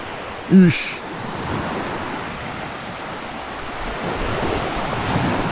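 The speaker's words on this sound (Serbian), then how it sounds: "Samo malo da snimim ovde dole plažu." Steady roar of surf washing onto a beach, mixed with gusty wind buffeting the microphone; a short faint tone sounds near the start.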